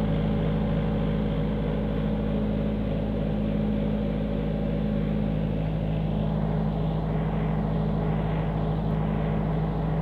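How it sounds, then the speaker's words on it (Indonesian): A Yanmar 20 kVA generator of Japanese make idles steadily through its cool-down, a constant low engine drone with a firm rumble, close and unbroken, no voices. "Genset proses untuk cooling down."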